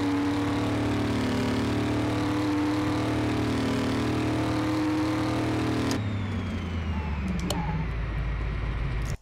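A Dodge Charger engine in Car Mechanic Simulator, a loud sustained whirring drone holding high revs through sixth gear, then shifting to a lower, rougher rumble toward the end, with no voices.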